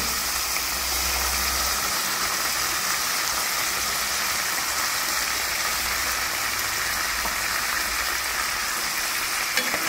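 Potatoes cooked with mint chutney hiss and sizzle steadily in a pan while being stirred, a dense, even frying sound that stays close and continuous throughout.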